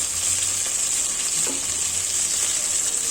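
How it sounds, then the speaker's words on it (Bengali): Chicken frying in a pan with pointed gourd and tomato, a loud, steady close-up sizzle with a bright hiss that holds evenly throughout. "দেখুন পটল দিয়ে টমাটো দিয়ে দুর্দান্ত স্বাদের একটা চিকেন ফ্রাই করে নিচ্ছি"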